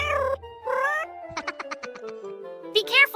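Cats meow on a TV program in a Minecraft animation, several clear close meows in a row with a rhythmic run of short tones between them.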